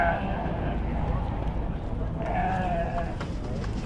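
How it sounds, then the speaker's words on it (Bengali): Goats bleat at a busy Eid goat market ahead of Qurbani, several wavering calls rising over a crowded, noisy background while people talk nearby. "ছাগলগুলো সুন্দর আছে মাশাআল্লাহ।"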